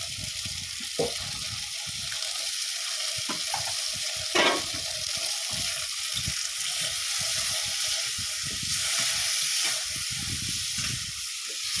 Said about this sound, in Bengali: ওর সাথে আমি দিয়ে দেবো বরবটি সমপরিমাণ লবণ ভাজার জন্য, আর দিয়ে দেবো অল্প একটু হলুদ